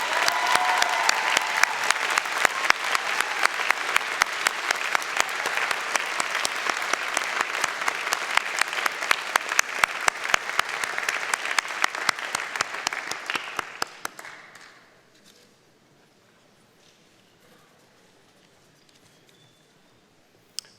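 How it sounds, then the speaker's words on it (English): A graduation convocation audience gives sustained, dense applause for about fourteen seconds, then the clapping fades quickly into a quiet hall with a few stray claps. "Graduates, a round of applause."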